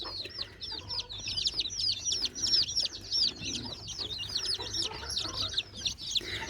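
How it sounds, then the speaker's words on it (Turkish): Dense, continuous high-pitched cheeping from many four-day-old chicks eating feed, a busy overlapping chorus with steady low background hum, close by. "Yaptığım karışımları gördüğünüz gibi daha 4 günlük civcivler yiyorlar arkadaşlar"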